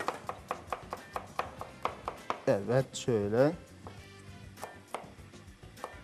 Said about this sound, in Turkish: Sarımsağımızı tekrardan şöyle ince ince doğrayalım.